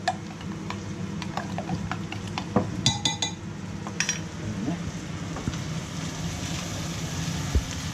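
Roasted lobster stirred in a cooking pan outdoors by a Welsh estuary, with scattered light scrapes and clinks of utensil on metal over a steady sizzling, outdoor background, close and moderate in level.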